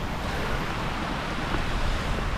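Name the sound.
running water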